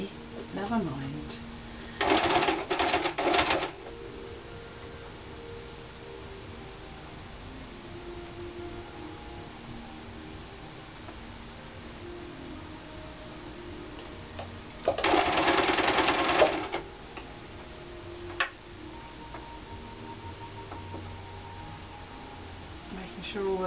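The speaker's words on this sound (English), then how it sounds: "It's just a simple stitching to go all the way around." Sewing machine stitching lace around the edge of a Christmas stocking, two loud bursts of fast needle clatter separated by long quiet stretches with light handling noise.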